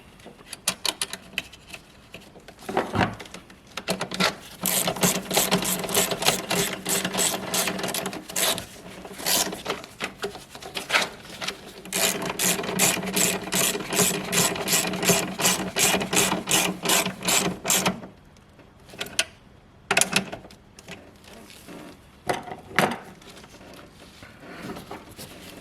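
A ratchet tightens a 10mm bolt on a Toyota Hilux power line, close up, with rapid runs of crisp clicks and brief pauses between strokes, and no talking.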